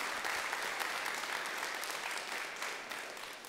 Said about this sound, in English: let's give them all a wonderful round of applause too